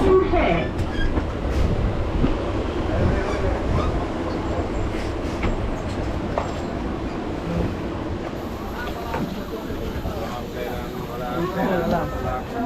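Rumbling interior of a crowded Bangaon local commuter train in motion, a steady loud rattle and clatter of the carriage throughout, with passengers chattering underneath.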